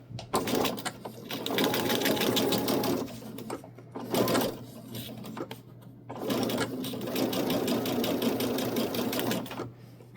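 Sewing machine stitching small corner square triangles of patchwork quilt fabric, running in long fast bursts with two short pauses between them, close and loud and without any talking.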